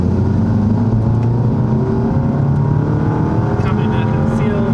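An APR-tuned VW MK7 GTI Clubsport pulling on boost in third gear, a loud steady engine drone with rising pitch heard from inside the car, with voices talking over it.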